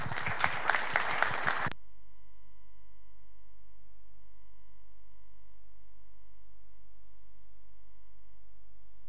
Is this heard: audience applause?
yes